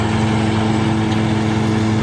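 A tractor engine runs steadily nearby in a pecan orchard during harvest, a constant droning hum at even loudness throughout, with no talking.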